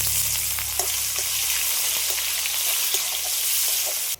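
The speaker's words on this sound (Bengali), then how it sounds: "পেঁয়াজটা একটু হালকা করে আমি ভেজে নিয়ে" Chopped onion with cloves, cardamom and cinnamon frying in hot oil for a fish curry, a steady dense sizzle holding throughout with occasional faint stirring taps, close and continuous, no voices.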